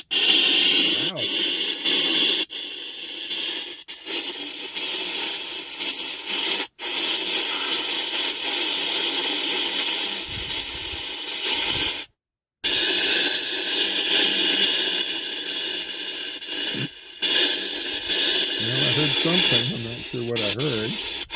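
A spirit box app scans through radio channels with added EVP white noise, producing a continuous hiss broken by choppy fragments and abrupt dropouts, with a voice speaking over it.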